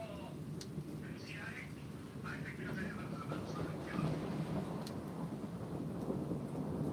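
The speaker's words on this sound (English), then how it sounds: "I just heard a lightning bolt hit somewhere." Thunder rumbles low and continuous through a rainy thunderstorm, steady and moderately distant, with a faint voice murmuring underneath.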